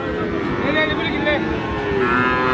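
Cattle low repeatedly at a busy rural livestock market trading Friesian and crossbred bull calves, the drawn-out moos rising over a steady crowd murmur and voices talking nearby.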